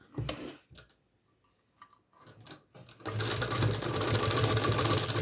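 A sewing machine stitching a velvet frock: a few short stuttering bursts of stitching, then a steady loud mechanical whir from midway to the end.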